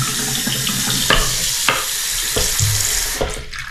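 Water runs steadily from a newly installed bathroom vanity sink faucet to flush the lines, a continuous close splashing hiss with a few sharper knocks and clatters.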